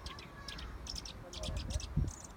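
A small songbird near a pigeon loft chirps in quick bright bursts of tweets and short trills, fairly close, over low background rumble and some faint human sounds.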